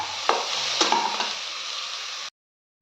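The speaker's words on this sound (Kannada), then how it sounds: "ಹಾಕ್ಬಿಟ್ಟು ಚೆನ್ನಾಗಿ ಫ್ರೈ ಮಾಡ್ಕೋಬೇಕು. ತರಕಾರಿ ಎಲ್ಲ ಸ್ವಲ್ಪ ಫ್ರೈ ಆದಮೇಲೆ" Vegetables for sprouted-grain sambar frying in a pan: a loud, hissing sizzle with a couple of sharp stirring scrapes and taps, steady for about two seconds before cutting abruptly to silence, with no talking.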